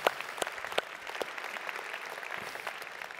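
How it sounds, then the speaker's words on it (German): Church audience at a healing service breaking into applause, a few sharp claps standing out at first before settling into a softer, scattered clapping from a moderate-sized crowd. "Ist das vielleicht ein Applaus wert?"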